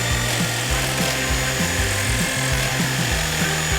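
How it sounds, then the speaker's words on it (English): A wood-cutting handsaw cuts through plastic garage floor tiles in loud, close, rhythmic back-and-forth strokes, each pass rasping evenly with no voices. "any wood cutting saw will work to cut these tiles"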